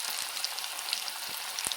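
Onion fritters (peyaji) sizzle steadily in hot oil, a dense close crackle with scattered sharp pops and spits.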